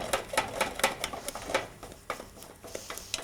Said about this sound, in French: je vais la remuer pour faire évaporer le maximum d'eau